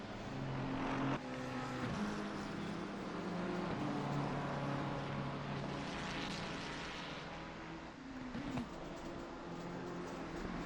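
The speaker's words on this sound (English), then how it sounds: "As the leader overall is going through the GT3 lap traffic, coming up on King's on the 93 BMW." GT3 race cars lapping the Indianapolis circuit in a multiclass race, among them a BMW, with steady engine drone and shifting tones as cars pass, one louder surge near the middle.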